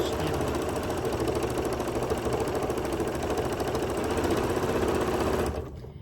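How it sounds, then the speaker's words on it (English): A sewing machine runs steadily through a rag quilt block cut as a 12-inch AccuQuilt block, a continuous close whirring stitch that carries without pause for about five seconds before slowing down. "Now I let the foot be my guide, and I sew just below where those cuts are"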